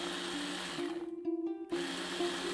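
An electric chopper whirs steadily while grinding ingredients for Arabic fish mandhi, then briefly cuts out and is pulsed again, a close mechanical hum with a short stuttering gap in the middle.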